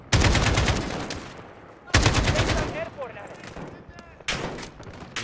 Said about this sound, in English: What are they shooting me with?